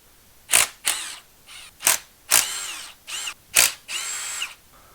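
A power tool loosening the 12 mm cam gear bracket bolts on a Nissan 300ZX (Z32) during timing belt work, with about seven short, loud whirring bursts separated by brief pauses, heard close and with no talking.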